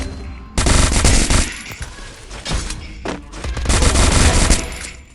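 Loud, close bursts of rapid automatic gunfire in a mobile shooting video game, rattling on for several seconds with brief gaps between volleys.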